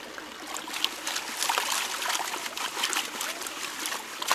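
Water and lighter material wash out over the lip of a gold pan as it is shaken back and forth, a steady close trickle and splash throughout with no talk.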